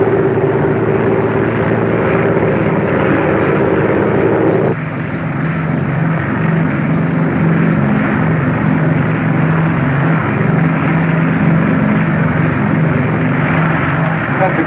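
Propeller airliner engines drone steadily as the aircraft descends on approach to land on a runway during the Berlin Airlift era; a loud, continuous multi-engine hum whose pitch drops partway through, with no talk over it.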